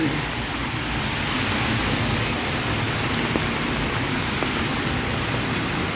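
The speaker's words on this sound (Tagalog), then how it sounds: "Yan, maulan na panahon." Rain falling on a wet street in the rainy season, a continuous even hiss of steady rainfall with faint passing traffic beneath, loud and unbroken throughout.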